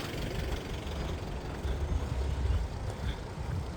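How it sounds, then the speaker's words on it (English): A car rolls through a narrow street on a Palm Sunday procession route from the Mount of Olives, its low engine rumble steady and fairly close, rising slightly midway, with no talk over it. "And behind me there's a car, I can hear it."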